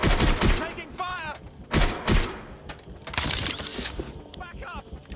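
Bursts of gunfire from the Watch Dogs Legion video game, rapid volleys of shots in several loud clusters with shouted voices mixed in.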